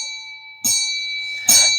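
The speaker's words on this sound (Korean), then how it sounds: "멀리서 예배당 종소리가 들리기 시작한 것입니다." Church bell ringing in the distance: two bright metallic strikes roughly a second apart, each followed by a ringing tail, over a faint steady tone, with no talking.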